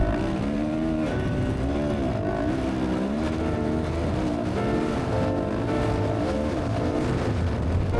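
Dakar 2026 rally car on sand, engine roaring under hard acceleration, loud and continuous with shifting pitch as it revs through gears, heard from close by for the whole stretch.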